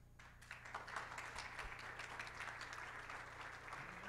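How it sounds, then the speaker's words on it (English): An audience at a higher-education innovation panel applauds its speakers, a dense, steady wash of many hands clapping at moderate distance for several seconds without talk. "That applause, of course, is for our speakers."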